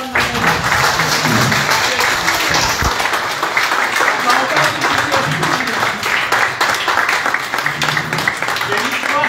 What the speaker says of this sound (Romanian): Vă rog să-l aplaudați pe Mirel